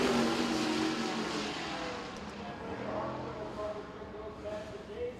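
A USAC Silver Crown race car runs on the racetrack at the Hoosier Hundred, its engine drone low and steady beneath continuous commentary and crowd-like background noise.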